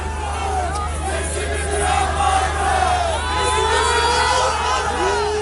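A large crowd in Antakya shouts slogans at a protest, voices merging into a loud, steady roar of overlapping chants that holds for the whole stretch.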